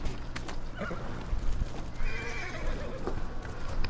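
Horse neighing and clip-clopping hooves in the video game Ghost of Tsushima, a whinny and hoofbeats repeating over steady game ambience, fairly close and moderately loud, with no talk.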